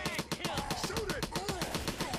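Rapid automatic gunfire in the co-op shooter Left 4 Dead 2 rattles in a fast, even burst of close shots lasting the whole moment, with game voices and noise underneath.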